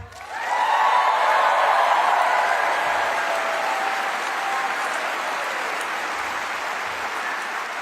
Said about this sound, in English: can we just give one more huge round of applause for our union leaders